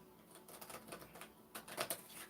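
Tarot cards being shuffled by hand, giving quick papery riffling and patting bursts up close, in uneven clusters with no voices.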